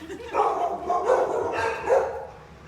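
Several dogs bark and yip in a noisy animal shelter kennel area, a busy overlapping chorus of close, loud barks with voices talking underneath.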